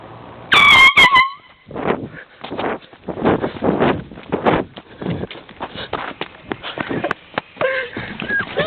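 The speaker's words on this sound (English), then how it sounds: "You just do the horn?" An air horn blasts loudly from a window in one short, piercing burst near the start, followed by rustling and muffled movement noise.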